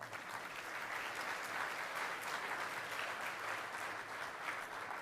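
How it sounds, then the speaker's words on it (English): Sustained applause from a conference audience after a panel session at a Land Forces Pacific event in Hawaii, a dense steady patter of many hands clapping for about five seconds with no one speaking. "Please give our panel another round of applause."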